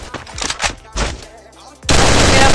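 Dense burst of gunfire from the Garena Free Fire mobile battle-royale game, played in ranked clash squad mode, that erupts loud and sustained near the end, after a stretch of excited talk.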